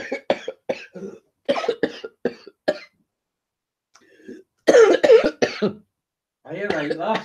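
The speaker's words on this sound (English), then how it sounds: "I got a cough sweet and I sort of breathed in and it went out wrong." Someone coughs and clears their throat after a cough sweet went down the wrong way, several harsh bursts in two clusters, the coughing close and loud with speech-like sounds around it.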